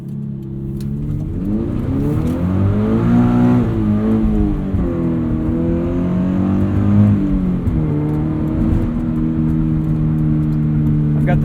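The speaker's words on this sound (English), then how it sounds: "you can hear the exhaust just a little bit more than normal." A Subaru BRZ on its stock tune, with the back seats folded down, moves through rising and falling engine and exhaust notes from inside the cabin. The note is loud, close and steady, with smooth gear-change swells and no talking.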